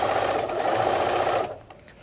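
Sewing machine running steadily while stitching a rolled hem on kitchen towels, a continuous close buzzing whir that stops abruptly after about a second and a half.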